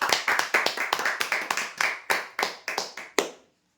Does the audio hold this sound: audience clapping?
yes